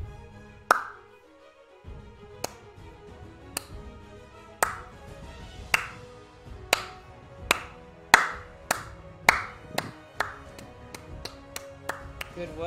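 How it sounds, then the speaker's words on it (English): A slow clap, single sharp claps spaced widely at first, then coming faster and louder in a steady build over several seconds, with a soft tonal backdrop behind them. "just slow clap for me"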